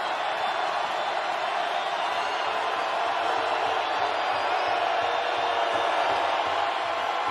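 Football stadium crowd at an FCS semifinal between Montana and North Dakota State, a broad, sustained roar of many voices, loud and even throughout.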